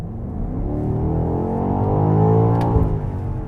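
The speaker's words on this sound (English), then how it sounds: "you can also customize the engine sound to be on or off. So here's what it sounds like on." A 2020 BMW X5M Competition with engine sound enhancement switched on drones with a smooth, rising engine note, heard from inside the cabin and building gently in loudness.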